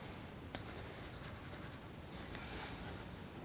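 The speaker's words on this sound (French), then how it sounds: "Donc, on va lui dessiner une belle cape" A pencil or marker draws a cape on paper for a children's superhero drawing, with steady scratchy strokes running close and continuous, a brief sharper scrape near the start, and a louder hissing swipe toward the end.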